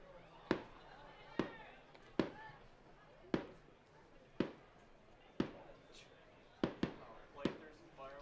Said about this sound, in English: fireworks going on in left field